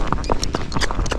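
A Fox Trotter horse's hooves clip-clop on a hard road in a quick, even rhythm, close and loud.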